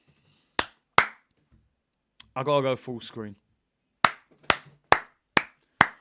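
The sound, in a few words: clapping, round of applause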